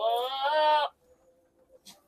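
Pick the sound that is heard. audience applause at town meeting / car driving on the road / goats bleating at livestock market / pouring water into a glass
goats bleating at livestock market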